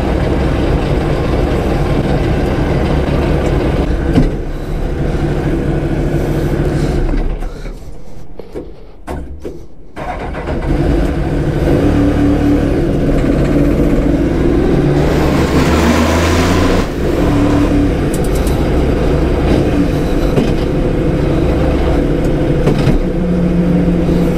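A Formula 4 race car runs on a circuit, its engine droning and revving loudly and continuously from close by, with a brief dip in level near the middle before the roar returns.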